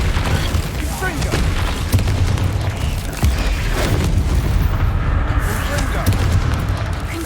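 Repeated Confringo fire-spell blasts in Hogwarts Legacy, loud booming explosions layered over a dense, continuous rumble of game action, with a voice calling out over the bursts.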